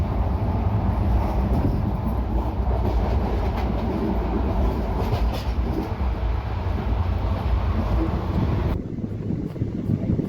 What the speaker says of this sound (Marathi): समोरून कोणती तरी ट्रेन येत आहे